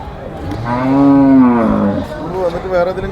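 A calf on a farm gives one long, loud moo with a strong rising-then-falling tone, trailing into a shorter, fainter lowing call near the end.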